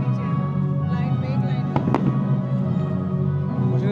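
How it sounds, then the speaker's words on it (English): Fireworks burst at the Versailles night show, with one sharp bang near the middle over a steady crowd murmur and scattered voices throughout. "Find a suitable place to watch the fireworks."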